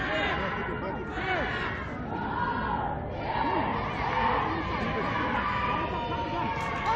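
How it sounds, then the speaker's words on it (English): Women's team crowd at an under-17 Mozambique versus Malawi football qualifier, cheering and shouting continuously with many voices in a loud, dense roar over general crowd babble. "The ladies team cheering the boys on."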